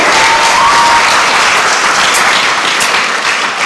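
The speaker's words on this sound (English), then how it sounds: "Let's give her a round of applause again." Audience applause at a secondary school graduation ceremony, a loud sustained wash of many hands clapping together, steady throughout before tapering slightly near the end.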